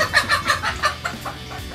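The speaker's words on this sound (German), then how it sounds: "war das eine Henne?" A hen rescued from the soup pot clucks close by in a quick series of rhythmic, nasal calls that trail off toward the end.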